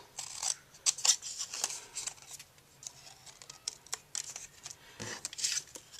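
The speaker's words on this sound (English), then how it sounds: "On the next one, I'm going to cut 3 petals out." Scissors cutting petals out of paper for a rosette: a string of crisp close snips and paper crackles in irregular bursts, with brief quiet gaps between cuts.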